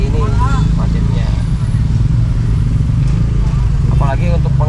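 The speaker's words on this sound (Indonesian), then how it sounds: "jadi seperti ini macetnya." A traffic jam of motorcycles and cars in Bandung, Indonesia, gives off a loud, constant engine drone and street noise throughout, heard up close, with a person talking over it.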